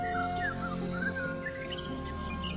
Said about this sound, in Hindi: बहुत से पंछी पानी पीने आए।